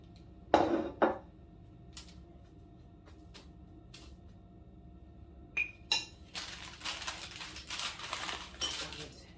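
Turmeric ginger tea with black pepper is transferred into a mason jar: a few light clinks of utensils and glass come first, then a steady close pour of liquid into the jar, with no talking.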